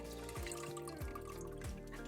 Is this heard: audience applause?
no